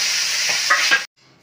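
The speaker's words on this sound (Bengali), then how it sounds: "তেলটা গরম হয়ে গেছে, এবার মাছের মাথাটাকে ভেজে নিই" A hilsa fish head frying in hot oil in a kadai gives a loud, close, steady sizzle with a few stirring bumps, cutting off abruptly near the end to near silence.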